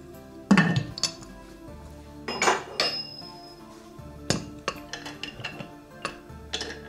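The metal lid of an Afghan kazan pressure pot, filled with chicken, vegetables and apples, is set on and fastened with several sharp clanks and clinks, close and loud, between quieter scraping handling sounds.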